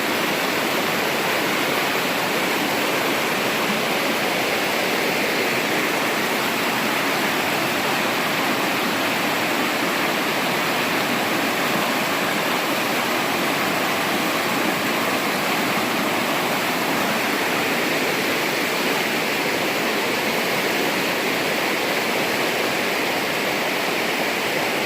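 Rushing water of a mountain river in the Smokemont area of the Great Smoky Mountains, a loud, steady broadband roar that continues unbroken and fills the scene with no voices.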